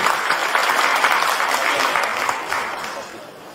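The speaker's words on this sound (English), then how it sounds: "Please give an applause for Mr. Anies Rashid Baswedan" An audience at a formal evening event applauds a speaker, Anies Rashid Baswedan, in a steady wash of clapping that fades slightly toward the end.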